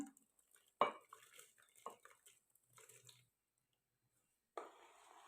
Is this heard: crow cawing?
no